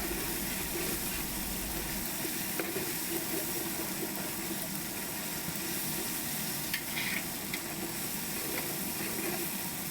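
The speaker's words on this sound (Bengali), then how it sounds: "এবার আমি যে তেজপাতা রেখেছিলাম সেগুলো দিয়ে দিলাম। দিয়ে একটু আমি নেড়ে ফ্রাই করে নেব।" Ginger, garlic and bay leaves sizzle hard in hot oil while being stir-fried for kabuli pulao, a dense continuous crackle with occasional scrapes of the spoon against the pan, close and loud throughout.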